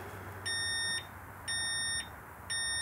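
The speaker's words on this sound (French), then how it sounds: "Vous avez un petit bip de... Voilà, ça veut dire qu'il est en place." A motorcycle disc lock alarm gives three evenly spaced, shrill electronic beeps about a second apart as it is set on the brake disc, close and clear over a quiet background.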